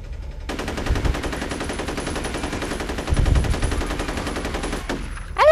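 Machine gun fire in the first-person shooter video game F.E.A.R.: a loud, continuous rapid burst lasting several seconds, with a brief pause and a final shot near the end.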